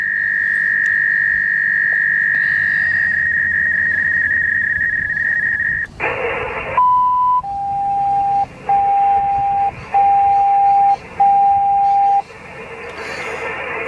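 Codan Envoy HF radio sending a revertive call, heard as a long steady high tone that switches to a burst and then a repeating series of four short beeps, loud over faint background hiss.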